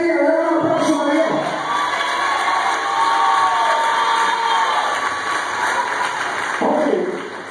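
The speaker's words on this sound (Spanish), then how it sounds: "Dale un aplauso a Dios" A church congregation at a youth campaign service applauds and cheers loudly, a continuous roar of clapping hands, shouts and excited voices that stays full and sustained throughout.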